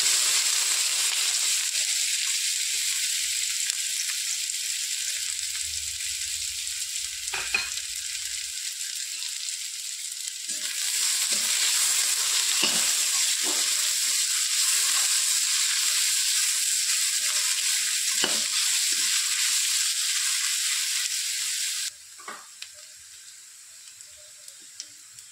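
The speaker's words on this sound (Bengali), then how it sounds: "পেঁয়াজগুলো একটু হালকা ভাজা ভাজা হয়ে গেছে" Finely chopped onions with bay leaf frying in a pan for a chicken skin curry, a steady sizzle with scattered crackles and light utensil taps, dropping quieter near the end.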